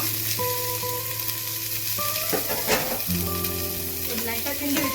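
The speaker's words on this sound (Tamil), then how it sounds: "இப்போ நம்ம வெங்காயம் ஆட் பண்ணிக்கலாம். வெங்காயத்துக்குரிய பச்சை மிளகாவும் ஆட் பண்ணிக்கலாம்." Chopped onions and green chilies sizzle steadily in hot oil in a pan for chicken biryani. The frying is continuous and close, with faint tonal clinks and stirring throughout.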